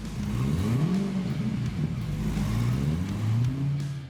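Dodge Tomahawk, a motorcycle fitted with a car engine, revving in a deep rising and falling drone, loud and steady with no voices.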